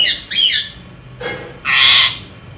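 A pet parrot screams in three harsh, loud squawks close by, with short gaps between them.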